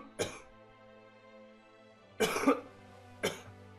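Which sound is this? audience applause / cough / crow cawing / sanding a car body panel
cough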